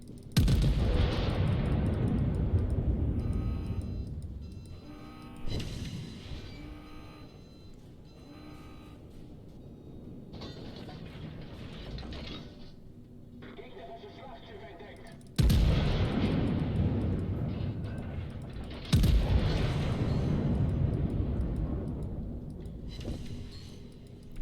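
World of Warships battleship secondary guns in a low-tier battle: loud, booming salvos that start suddenly and roll on, with quieter stretches between blasts and a voice talking now and then.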